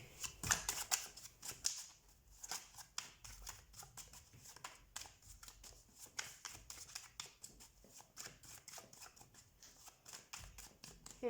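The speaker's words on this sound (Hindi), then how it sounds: "एक लास्ट बार मैं शफल करूँगी।" Tarot cards being shuffled by hand, giving a close, quiet run of soft riffling and flicking bursts that continue irregularly for about eleven seconds.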